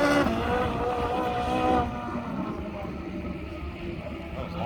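A Ferrari 458 Italia blasts off under launch control, its engine roaring loud and close for about two seconds before the pitch drops into a steadier rumble over wind buffeting.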